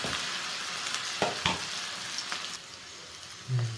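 Cauliflower florets for gobi manchurian deep fry in hot oil, a dense continuous sizzle and bubble with a few sharp crackles and a low clunk near the end.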